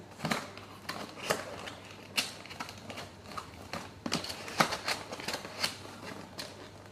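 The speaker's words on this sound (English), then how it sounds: "So again, I'm making sure they're all clicking in nicely." Plastic coaster display stand pieces click and snap into place. Sharp, irregular clicks and clacks come close up at varying loudness over a faint steady hum.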